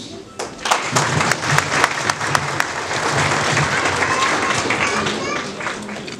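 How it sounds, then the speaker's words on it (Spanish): Applause from a gathered audience, opening with a few sharp, separate claps that swell into dense, sustained clapping lasting several seconds, fairly close and even in loudness. "Aplausos."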